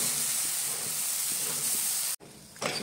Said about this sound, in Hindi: तेल गरम हो चुका है, अब इसमें हम ये बेसन को डालेंगे